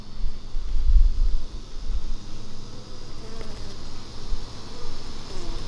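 Honeybees buzzing on a hive frame at an apiary, a dense, steady drone of many insects close by, with a little wind and handling noise and no talk.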